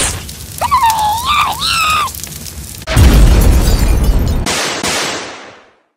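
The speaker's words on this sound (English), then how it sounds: "Firey, go ignite Bombi." A cartoon bomb character from Battle for Dream Island ignites and explodes with a loud, sudden noisy burst that sustains a second and a half before dying away, following squeaky animated character vocalizations.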